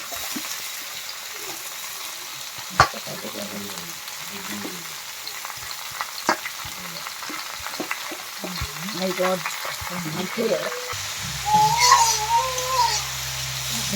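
Salted, drained cabbage frying in a pan for a katla fish-head ghonto, a steady close sizzle with occasional stirring clatter, swelling louder near the end as more goes into the pan.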